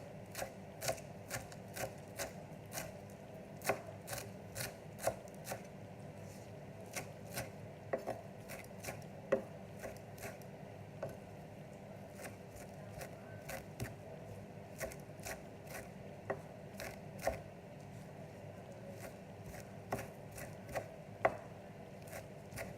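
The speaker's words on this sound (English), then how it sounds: "I'll just chop off those stems and just give it a chop." Knife chopping mushroom stems on a cutting board, a steady run of light, crisp taps repeating for a long stretch at moderate distance with no talk.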